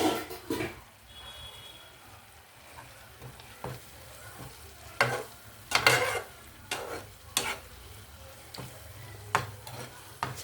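A pan of tomato and chukkakura (sorrel leaves) curry sizzles softly on the stove while a spoon scrapes and stirs it in several distinct strokes, close and fairly quiet.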